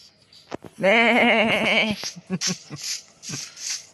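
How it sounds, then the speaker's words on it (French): Sheep in Minecraft give a loud wavering bleat up close, followed by a few short clicks and faint scattered sounds. "Mouton."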